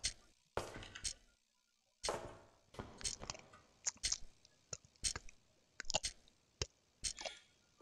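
Wet chewing and biting noises in the horror game Mental, set in an asylum: a series of separate squelching bursts and clicks spread irregularly over several seconds, fairly quiet with silent gaps between them.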